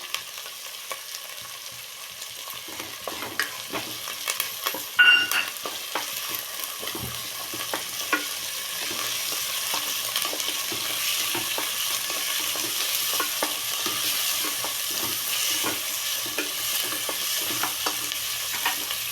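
Green beans frying with onions in a pan for drumstick sambar, a steady sizzle with scraping stirs and small clatters, close and fairly even throughout with no talking.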